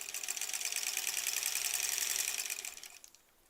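A sewing machine stitches granny squares for a quilt, a fast, even mechanical whir that runs steadily close up for nearly three seconds and then winds down as it stops.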